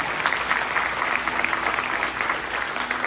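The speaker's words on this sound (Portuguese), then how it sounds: "Aplauda o Senhor de verdade." Dense, sustained applause from a large church congregation, loud and even throughout, with faint voices mixed into the clapping.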